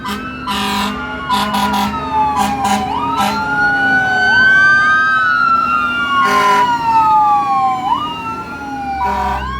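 Siren of a Stillwater Fire engine in a 9/11 tribute procession on Interstate 94 in Afton, Minnesota, loud and close with a rising and falling wail, mixed with blasts from an air horn and a steady truck engine rumble underneath.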